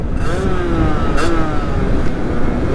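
A 50 cc motorbike engine while riding, a loud continuous buzzing drone with slight pitch shifts as the throttle varies, close to the rider and heard without talk.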